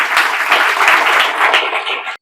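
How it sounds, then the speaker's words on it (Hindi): Loud, dense clapping from an audience at a gathering, many hands applauding steadily and close by before cutting off abruptly. "उसके लिए आप लोग जोरदार ताली बजाइए"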